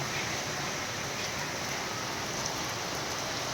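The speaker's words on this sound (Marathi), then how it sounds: "जोरदार पाऊस चालू झाला आहे बघा" Heavy rain pours steadily in a dense, even hiss with no pauses, fairly close and with no other sounds.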